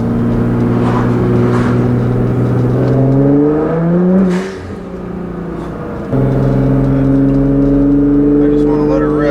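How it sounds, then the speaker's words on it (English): A 2015 Nissan GT-R with a Meisterschaft exhaust, tune and GFB blow-off valves drones loud and close as its engine note climbs steadily. A brief drop comes with a gear change, then a steady cruising hum follows, with a voice heard over it. "Let's hear the exhaust a little bit."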